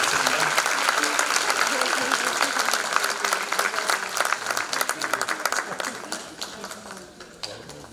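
An audience at a Turkish classical music ensemble event applauds, with dense clapping that is loud at first and gradually thins and fades, and a voice is faintly heard underneath.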